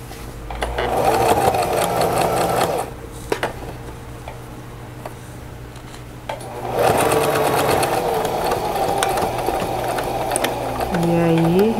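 Sewing machine stitching bias binding along the bottom edge of a dish towel, steady close mechanical whirring in two runs with a short pause between and a quieter stretch of handling.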